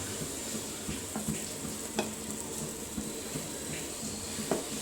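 Dosa batter poured onto a hot pan gives a faint, steady sizzle with a few light clicks and scrapes, alone and without talk.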